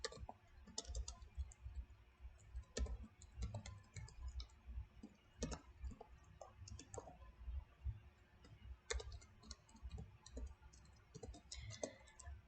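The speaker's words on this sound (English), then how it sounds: "So we'll go ahead and type that in." Keys tapped on a computer keyboard while entering equations, a steady run of quiet, close clicks in irregular bursts with brief pauses, no voices.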